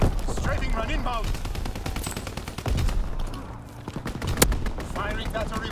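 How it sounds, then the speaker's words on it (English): Video game artillery barrage with rapid, rattling bursts of distant gunfire and sharp reports, one loud crack standing out, under shouting game voices and radio callouts. "Firing for full effect! Target zone artillery drop."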